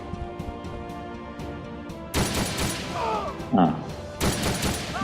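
Video-game gunfire from Ghost Recon Shadow Wars rattles in dense, loud bursts, with a rapid crashing volley and a second burst trading shots, over a steady game music bed with a short swooping effect between them.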